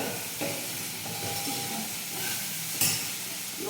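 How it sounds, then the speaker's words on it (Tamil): Curry frying in a pan gives a steady broadband sizzle with occasional stirring scrapes and a brief louder clatter near the end, close and moderately quiet, with no talking. "இந்த பக்கம் இந்த கறி வந்து ஃப்ரை ஆகிட்டு"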